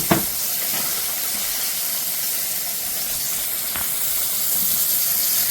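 Okra frying in hot oil, a steady broad hiss and sizzle holding evenly throughout, with a few soft pops and bubbles and no voices.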